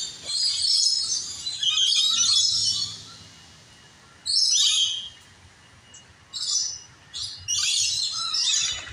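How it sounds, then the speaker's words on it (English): Several birds chirp and trill in bright bursts at a wildlife reserve in Busch Gardens, Virginia, some loud and close, with a low steady background hum between calls. "So all you hear, all these birds"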